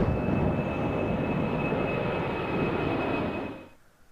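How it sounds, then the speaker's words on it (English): Airplane cabin engine noise in the video game Remember11: a steady, broad droning hum holds evenly at moderate loudness, then fades out near the end, with no talking. "Back on the plane."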